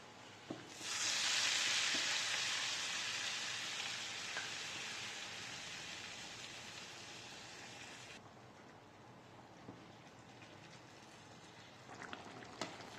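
Chicken meat hits hot oil with cumin and bursts into a loud, dense sizzle that slowly settles into a steadier, softer frying hiss. A few stirring clicks and taps sound near the end.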